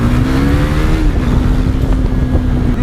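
A Yamaha motorcycle engine revs loud and close, a steady buzzing drone that dips in pitch about a second in, then holds at a lower rev.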